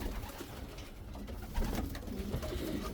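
Young racing pigeons coo softly nearby, low repeated burbling calls over faint background rustle, with no talk.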